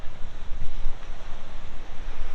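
Sea waves wash against boulders at Lowestoft Ness on a sunny day, a steady surging roar with rhythmic swells, mixed with buffeting wind noise on the microphone and no voices.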